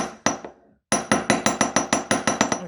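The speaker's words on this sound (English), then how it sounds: "I'm also hammering a little bit more with a curl." Jewellery wire is struck with a small hammer in a quick series of about ten sharp metallic taps at a steady rhythm, close and loud after one isolated opening blow, with no talking.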